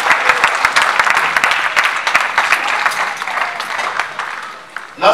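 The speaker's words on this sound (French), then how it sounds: "Est-ce qu'on peut acclamer?" A church congregation applauding during a sermon, with dense, sustained clapping from many hands that fills the room and fades slightly toward the end.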